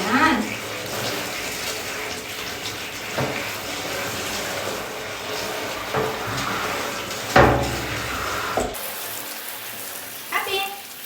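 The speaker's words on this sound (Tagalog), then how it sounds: "Showeran natin ang ating alaga." Shower water runs steadily over a dog being bathed, a constant hiss broken by splashes and a few sharper knocks, close by.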